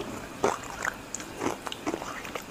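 Crisp bites and crunches into a chocolate cream-filled wafer cone, several sharp close crackles spaced irregularly at low volume with no talking.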